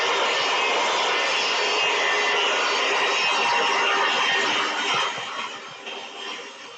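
A circular saw cuts into a roof rafter board with a loud, steady, broadband whine that holds for several seconds and then fades as the cut stops.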